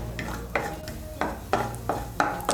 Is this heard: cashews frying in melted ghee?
yes